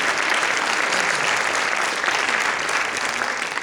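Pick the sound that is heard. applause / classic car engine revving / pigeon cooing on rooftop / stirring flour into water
applause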